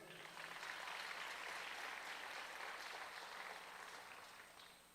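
A church congregation applauding together during a sermon, a steady, fairly faint wash of clapping that holds for several seconds and fades slightly at the end.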